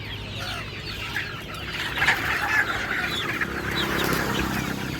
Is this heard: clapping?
no